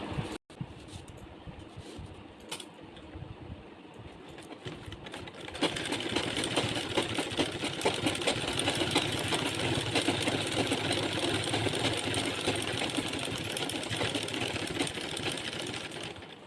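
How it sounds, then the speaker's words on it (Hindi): Close sewing machine running steadily for a long stretch while stitching fabric for a heavy designer Kanha ji outfit, with a quieter start and then a loud, even motor hum. "यहाँ पर सिलाई लगा लेंगे।"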